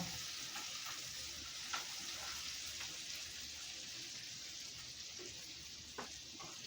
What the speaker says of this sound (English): Stir them and then take it off the burner.